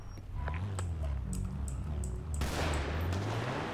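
Rapid gunfire in a GTA RP police shootout, a burst of shots that swells into a dense, loud volley toward the end over a steady low engine-like drone.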